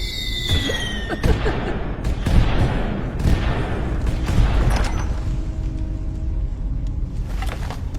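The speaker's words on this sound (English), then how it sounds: "I always get fireworks for new followers and subscribers." Fireworks in the Skyrim Anniversary Edition video game burst in a rapid series of loud booms and crackles, some whistling rises at the start, fading into softer pops and rumble.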